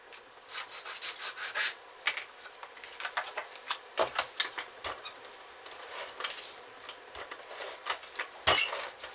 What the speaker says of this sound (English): if you just go around the edges, kind of will smooth that out